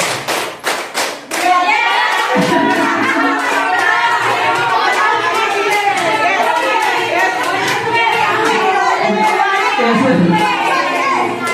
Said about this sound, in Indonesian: sekali lagi ya, tepuk 5 kali